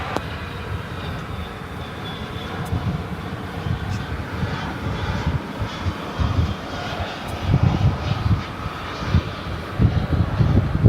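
An American Airlines jet departing DFW Airport at night gives a broad, rumbling engine roar that swells gradually over several seconds, heard from a distance outdoors.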